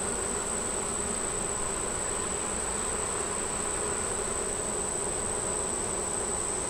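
A dense, continuous hum of honeybees swarms around an open beehive outdoors on a hot day, with a steady, loud buzz throughout and no voices.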